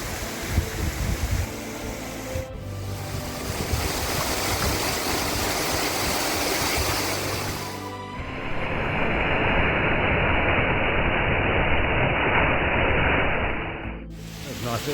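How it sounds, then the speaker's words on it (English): Small waterfall beside the Ben Nevis mountain track on a breezy day, a loud, steady rush of falling water that fills the whole clip, with abrupt shifts in tone partway through. "Nice little waterfall there"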